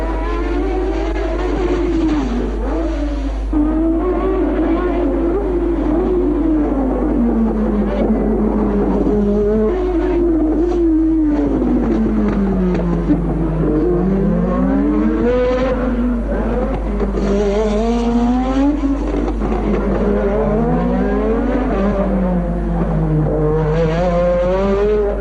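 Formula 1 race cars from the 1983 season at Monaco near Casino Square, engines screaming and rising and falling as they pass and shift gears, loud and continuous throughout with a low steady hum underneath.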